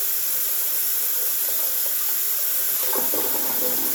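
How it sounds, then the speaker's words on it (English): Hot water gushes steadily from a tap while refilling a shaving bowl, a constant close hiss with a slight splashing change near the end. "I'm going to refresh this hot water"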